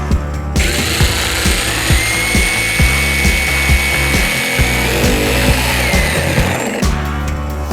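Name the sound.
M12 multi tool plunge cutting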